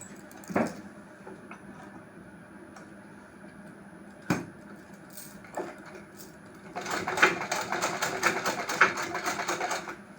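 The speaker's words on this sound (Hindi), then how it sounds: "ये दोनों हिस्से हमारे जो है इसको इस तरीके से एक दूसरे के ऊपर रख के यहाँ पे पक्की सिलाई चला देनी है" A sewing machine stitching a palazzo seam starts after a few isolated knocks and then runs in a fast, even mechanical rattle of needle strokes for several seconds, close by.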